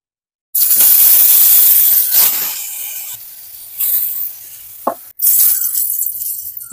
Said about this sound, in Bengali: এবার কলাগুলা ভেজে নিব।